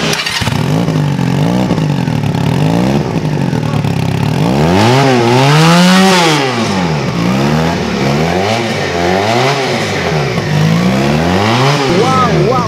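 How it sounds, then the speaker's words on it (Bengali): A Regal Raptor Plider cruiser motorcycle with a double silencer exhaust rumbles close and loud, then is revved in repeated rising and falling throttle blips over a deep idle. "এখন আমি আপনাদেরকে এই বাইকটির এক্সস্ট সাউন্ডটা শোনাবো।"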